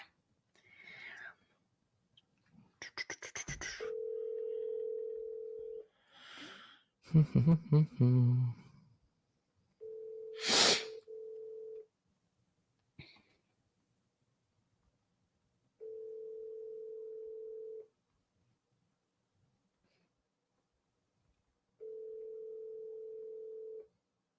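A phone line gives an outgoing ringback tone while a call is placed: steady tone bursts about two seconds long repeat at even intervals, after some earlier handling noise and faint speech.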